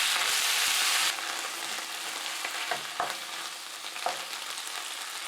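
Chinese cabbage stir-fried with a pinch of salt and light soy sauce sizzles loudly in a hot pan, a bright hiss that drops a little after the first second, with occasional scrapes and knocks of stirring.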